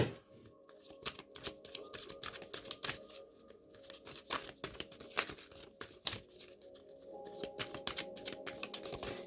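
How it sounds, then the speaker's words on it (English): Tarot cards being shuffled close up, a rapid run of crisp riffling snaps and flicks in irregular bursts, quiet and alone without talk. "I'll be liking to do a little pre-shuffle just to see if it's going to come out again."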